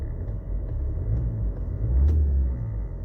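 Engine of a 2011 Ford Kuga with about 69,000 km revving, a low rumbling swell that rises and falls twice, recorded close with no talk over it.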